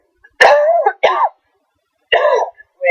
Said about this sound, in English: Waiting to cough, sorry.